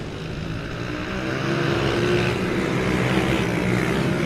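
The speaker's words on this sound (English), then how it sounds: "the Supermoto machines get underway off the start line" Supermoto motorcycles and Mini GP bikes pull away from the start line at a Teesside race, a dense blended drone of many engines building steadily and holding loud throughout.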